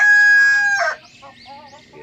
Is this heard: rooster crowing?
yes